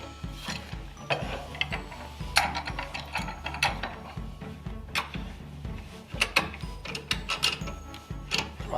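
A woodworking clamp is being cranked tight against a bench, giving a steady run of close ratcheting clicks and mechanical creaks with no talking.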